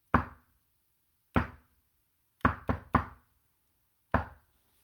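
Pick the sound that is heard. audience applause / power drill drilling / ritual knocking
ritual knocking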